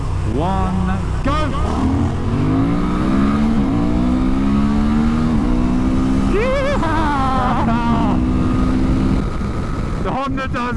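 A Honda Transalp and a Suzuki V-Strom 800 DE accelerate together from a standstill. Their rising engine notes climb through several gear changes and stay loud and close, with voices heard at times.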